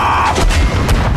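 Tank cannon firing in combat, a single loud close booming blast with a heavy low rumble filling the whole moment.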